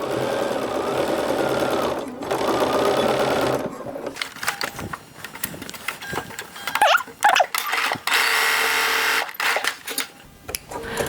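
A sewing machine stitches down the neckline of a dress made from Butterick pattern 4685, running in loud close bursts broken by short pauses and repositioning clatter, with no voices.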